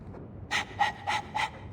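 A dog pants in the video game Dragon Age 2, four quick breathy bursts in an even rhythm, close and fairly loud over a quiet background.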